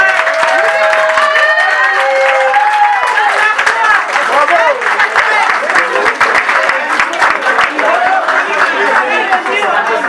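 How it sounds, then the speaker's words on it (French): An audience at a pageant fashion show applauds and cheers, dense continuous clapping with shouts and whistles rising above it, loud and close throughout. "Vous pouvez au moins applaudir et crier pour celle que vous soutenez."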